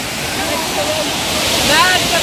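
Gushing water at Tinago Falls pours in a loud, constant, close rush of white noise that swells slightly near the end.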